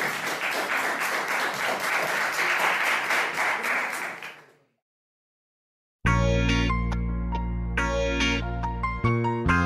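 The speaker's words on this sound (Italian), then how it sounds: "Un applauso." Audience applause at a live music show, many hands clapping in a dense, rhythmic burst that fades out into about a second of silence, followed by music starting up.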